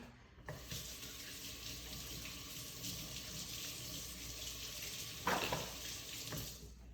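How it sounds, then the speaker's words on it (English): A kitchen tap runs steadily while hands are washed under it, a soft, continuous splashing stream with a brief louder splash near the end and no talking. "Okay, I'm gonna wash my hands."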